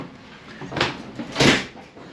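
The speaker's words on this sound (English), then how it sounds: "stepping out, as you notice, going through 2 doors" Two doors on a cruise ship deck corridor opening and closing one after another, each giving a soft swinging thud with a brief hiss of movement, moderately close with no talk.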